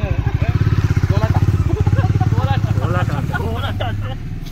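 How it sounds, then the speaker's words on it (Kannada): A motorcycle carrying a couple pulls up nearby, its engine chugging in a steady, loud rhythmic idle while a person talks over it. "ಇದು ನವ ಜೋಡಿ ಬೈಕಲ್ಲಿ ಬರ್ತಾ ಇದೆ"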